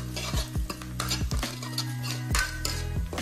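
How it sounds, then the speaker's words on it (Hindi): Curry leaves sizzle in hot oil in a tempering for kadhi, while a metal spoon repeatedly scrapes and clinks against the pan in a busy close-up kitchen sound. "अब इसे मैं अच्छे से फ्राई होने देती हूँ।"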